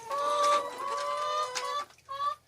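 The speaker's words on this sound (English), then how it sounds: "our big, beautiful, shiny chickens over here" Farm chickens kept for eggs, with a hen roosting nearby, giving a steady run of close, tonal calls and clucks that break off briefly near the end before one last short call.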